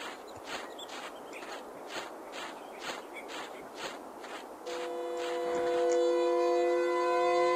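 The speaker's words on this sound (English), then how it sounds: "Is that a warning siren?" A long, loud warning siren wail in a horror video game rises and holds steady after several seconds of rhythmic rumbling noise, blaring continuously to the end.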